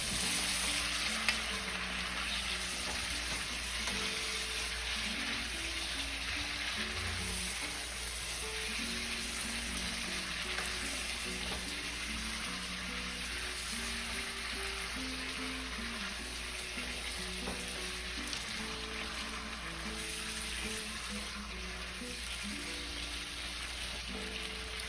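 Green beans and beefsteak sauté in a pan with a continuous even sizzle throughout, steady and close, with faint stirring and no speech.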